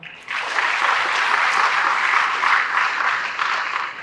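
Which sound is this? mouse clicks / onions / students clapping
students clapping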